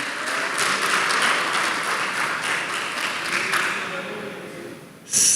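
Warm congregation applause welcomes a visitor at a church service, a dense wash of many hands that fades gradually toward the end before a sudden loud burst at the close.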